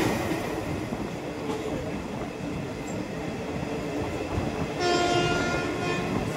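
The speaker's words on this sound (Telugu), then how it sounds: "ఔరంగాబాద్ నుంచి గుంటూరుకు వచ్చే ట్రైన్ అనమాట" An Aurangabad to Guntur express train rolls past with a continuous heavy rumble and clatter, and a sustained horn blast sounds near the end.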